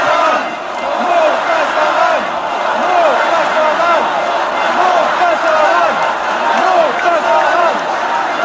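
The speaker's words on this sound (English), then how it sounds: "Here were the celebrations after that was announced." Huge crowd celebrating the defeat of France's far right, a dense continuous roar of cheering and chanting voices with shouts rising and falling throughout, loud and unbroken.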